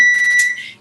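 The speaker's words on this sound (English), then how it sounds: "Sorry about the beeping." Electronic alarm beeping in a room, a shrill high-pitched tone sounding loud and close for under a second before fading out, with no talk over it.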